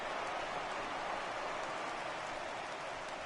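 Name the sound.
heavy rain falling in a baseball video game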